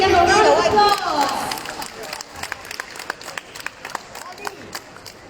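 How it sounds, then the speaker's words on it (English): An audience at a talent quest event bursts into loud applause that fades after a couple of seconds, leaving scattered individual claps and a faint murmur of voices. "Let's give them a round of applause."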